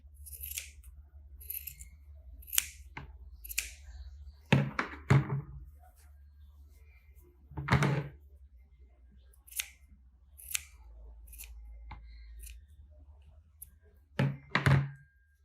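Scissors snip through a beaded braid of seed-bead mostacilla on a dreamcatcher hoop, a string of separate crisp cuts spaced irregularly, each close and fairly loud over a quiet low hum, with no one speaking.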